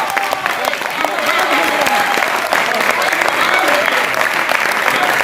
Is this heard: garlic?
no